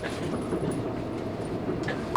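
A Seoul subway train runs with a low, steady rumble and faint rattling inside the carriage, ending with a short high beep.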